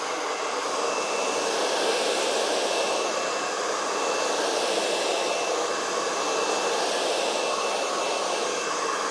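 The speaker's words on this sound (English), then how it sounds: "the blow dryer is really loud" A hair dryer blows loud and steady at close range, an unbroken whooshing whine with no talking.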